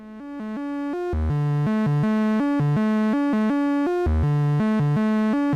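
A modular synth VCO, modulated by an LFO through the Octivator's CV output, steps through a repeating pattern of pitches, bright buzzy tones rising and falling in a steady sequence-like rhythm, loud and alone.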